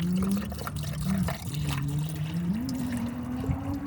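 Water runs and gurgles out of a hot Corvette Z06 at a remote track, a steady close trickle over a low, wavering mechanical hum.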